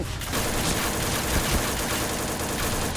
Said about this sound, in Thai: ผมไม่ชอบเสียงปืนเลยว่ะ